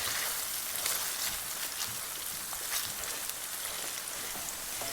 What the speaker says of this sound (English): Now you saute this till it gets to nearly 4 shades darker